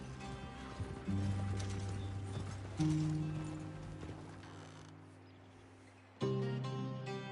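Horse hooves trotting in Red Dead Redemption 2, a steady, faint clip-clop rhythm under sustained musical tones throughout.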